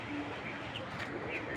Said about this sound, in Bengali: শুরুতে এক জোড়া টয় লাহোরি সিরাজি কবুতর